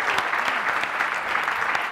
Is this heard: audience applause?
yes